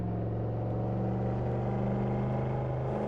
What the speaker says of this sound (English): the car that I'm driving in-game is a Cadillac CT5 V Blackwing right here